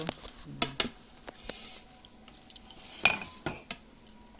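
Cutlery clinking and scraping on plates during a home meal of sautéed sardines and adobo string beans, scattered close taps and clinks at an irregular pace, with no voices.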